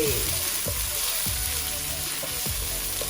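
Chillies sauté in oil in a pan for diet fried rice, giving a steady loud sizzle with a few scrapes and stirs from a utensil spaced through the clip.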